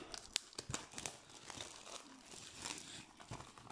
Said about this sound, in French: Voilà, je casse le papier.